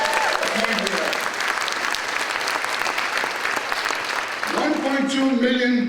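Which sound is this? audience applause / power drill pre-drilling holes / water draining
audience applause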